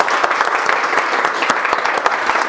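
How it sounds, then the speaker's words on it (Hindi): An audience claps together loudly and continuously at close range, a dense patter of hand claps with sharper individual slaps standing out, with no talking over it. "सबसे पहले एक बार ताली बजाओ खुद के लिए"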